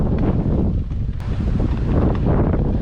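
Steady outdoor wind in Mount Royal Park, Montreal, blowing through flowers and plants on a nice day, a continuous broad rushing with gusty swells and microphone buffeting throughout, no voices.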